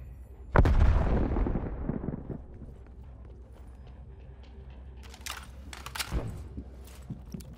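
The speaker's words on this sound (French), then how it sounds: "Grenade envoyée!" A grenade blast in the multiplayer shooter Call of Duty: Black Ops Cold War, one loud close boom that rumbles and decays over a couple of seconds, followed by scattered distant gunfire and battle noise.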